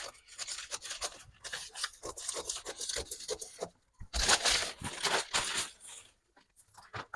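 Scissors trimming excess fabric while cutting a high-low shirt top: close, crisp snipping and rasping cuts in uneven bursts with short pauses, no speech.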